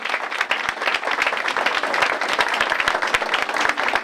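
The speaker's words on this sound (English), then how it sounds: "Please give him a big round of applause" A council meeting audience gives a standing ovation for township council members, with dense, loud, continuous clapping that fills the room steadily from start to finish.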